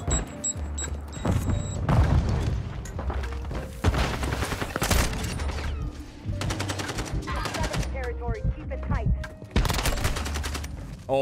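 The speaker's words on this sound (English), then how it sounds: "Oh my god, this shotgun, dude." Repeated loud shotgun blasts in a video game, heavy booming shots scattered through a busy firefight with overlapping gunfire and impacts, with people talking over the action.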